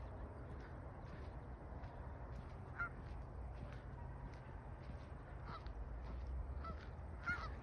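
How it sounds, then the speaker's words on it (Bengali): A large flock of waterfowl spread across a field, scattered honking calls rising at intervals from a distance over a constant low outdoor rumble, with no speech. "অসংখ্য হাঁস, অনেক, পুরো মাঠ জুড়ে"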